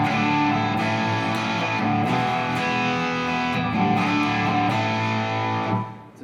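An electric guitar with humbucker pickups plays sustained, heavily driven chords that ring out with a bright yet warm tone, loud and close, then cut off abruptly near the end.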